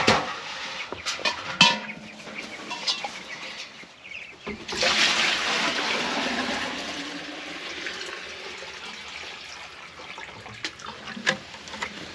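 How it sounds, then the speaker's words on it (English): Young broiler chickens chirp and cluck indoors in a warm coop, scattered calls over a steady rushing, hissing background, with a louder burst of noise partway through. "Chickens!"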